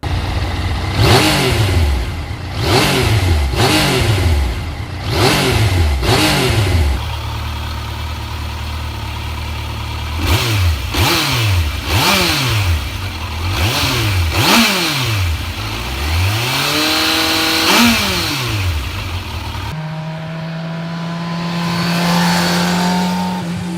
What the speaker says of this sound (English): Let's also have a listen to the exhaust notes of both these motorcycles